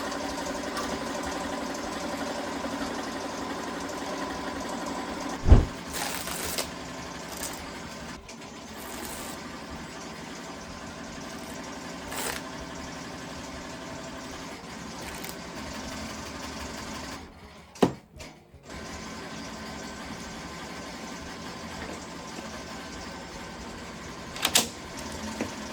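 An embroidery machine stitches fluorescent yellow thread onto a hoodie, running as a steady close mechanical whir and buzz through the whole stretch, with a few brief sharp knocks and one short pause in the middle.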